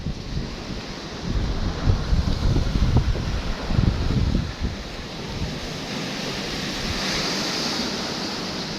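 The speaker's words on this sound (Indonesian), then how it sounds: "ini adalah aku lagi ada di tepi pantai" Ocean waves at Selili Beach in Gunung Kidul, Yogyakarta, roll in as a steady broadband roar, swelling louder in the first seconds before settling into a softer continuous wash with some wind noise.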